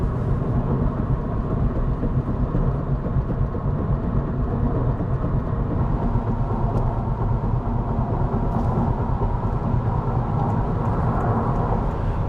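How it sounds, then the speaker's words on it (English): Road noise inside a 2022 Honda Civic Touring on a test drive forms a loud, constant low rumble and tire roar that holds steady throughout, with no talking. "you heard the comparison between the road noise in both models"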